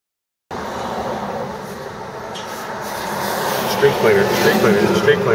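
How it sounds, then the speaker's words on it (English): A street cleaning vehicle sweeps past close by on a parked-up street, a steady broadband mechanical whoosh and scrubbing roar that swells louder toward the end as it draws nearest, with faint voices underneath. "street cleaner went right past us"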